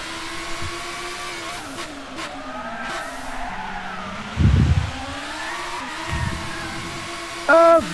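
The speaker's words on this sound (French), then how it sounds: "Bouba qui a glissé un peu" Racing car engine note in Gran Turismo with brief tire squeal bursts as the car slides, heard during a Group A race, alongside sustained engine drone with shifting pitch.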